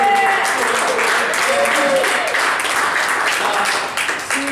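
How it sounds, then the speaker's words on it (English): An audience at a live improv comedy show in a small theater applauds. Steady, dense clapping fills the room for several seconds, then thins out toward the end. "Give yourselves a round of applause for doing this."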